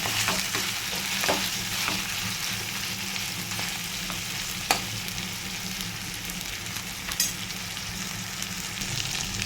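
Chicken liver sizzles steadily in a pan with ginger paste, a dense close frying hiss with occasional sharp pops and stirring clicks, no talk.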